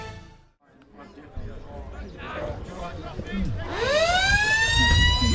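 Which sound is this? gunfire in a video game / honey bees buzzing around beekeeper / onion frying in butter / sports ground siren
sports ground siren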